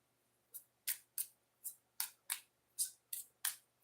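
Tarot cards are shuffled in about ten quick crisp riffles, each a short papery burst, close and clear against a quiet background.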